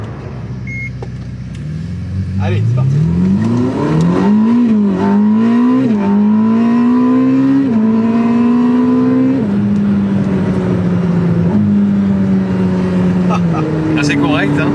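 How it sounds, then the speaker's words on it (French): A Ferrari hybrid supercar engine fires up in performance mode and accelerates hard through rising, loud gear pulls close to the listener, with each upshift dropping the pitch. Someone speaks briefly at the start. "Et on va mettre le mode performance. On entend le moteur démarrer."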